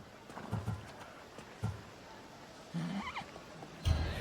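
A horse whinnies in Assassin's Creed Odyssey, a rising neigh in the middle of a quiet outdoor scene, with a few soft hoof thuds and snorts around it at moderate distance.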